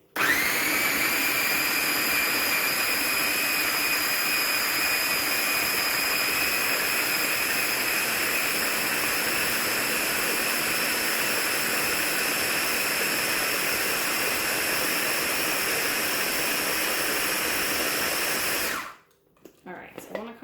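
A loud motorized food chopper blending roasted red pepper hummus whirs continuously with a high steady whine for most of the clip, then cuts off abruptly near the end.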